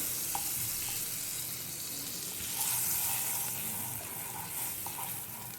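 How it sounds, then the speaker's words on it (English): Butter sizzles in a preheated pan for an oats galette, a steady, moderately quiet crackling hiss running throughout with faint clinks over it. "So to the preheated pan, I'm going to add some butter. I'm going to grease the pan with this butter."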